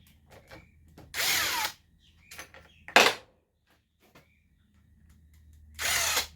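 A power drill or impact driver loosens bolts on a Stihl MS290 chainsaw during a teardown, three loud close whirring bursts separated by pauses, along with lighter clanks and handling noises.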